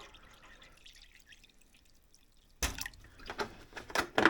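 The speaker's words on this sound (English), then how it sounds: "Let's put a little more water in here." Water pours into an ultrasonic cleaner tank that already holds about a gallon, a sudden splashing gush that starts after a quiet stretch and continues unevenly, close and moderately loud.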